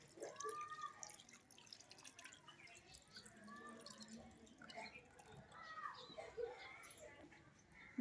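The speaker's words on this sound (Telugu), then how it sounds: "చింతపండు పులుపు అయితే పోసేసుకుంటున్నాను ఇప్పుడు నేను" Tamarind juice poured into a pan of fish curry, a faint close trickle and splashing of liquid, with someone speaking quietly over it.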